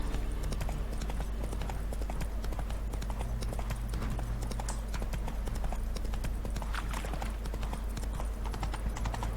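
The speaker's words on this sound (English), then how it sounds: "voy a tener que ir con el caballo" Horse hooves clip-clopping steadily at a galloping pace throughout, riding in The Witcher 3: Wild Hunt, over a constant low game soundscape with faint background music and no speech.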